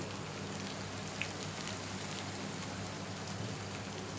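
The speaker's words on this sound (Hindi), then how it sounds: "इसी तरह से स्लो फ्लेम में मैं सारे चपली कबाब आलू के फ्राई करूँगी।" Potato chapli kababs fry on a slow flame, making a soft, even, continuous sizzle that stays faint and steady throughout, with no talking.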